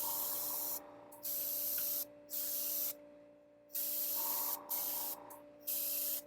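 An airbrush sprays zenithal primer onto Skaven miniatures in bursts of bright hissing. Five or six spurts of a couple of seconds each are broken by short pauses, with a faint motor hum running under them.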